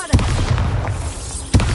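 Bombarda spell explosions in the Hogwarts Legacy video game: two sharp, heavy booms about a second and a half apart, each followed by a rumbling tail.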